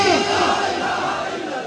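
Crowd at a Jamaat-e-Islami political rally closing a train march at a railway station, chanting slogans in unison, loud and dense, with layered voices filling the short stretch.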